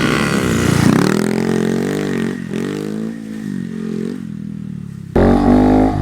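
A Honda Monkey 125 motorcycle ridden on sand, its engine revving up and easing off in a close, continuous drone, then jumping to a louder, harsher rev near the end.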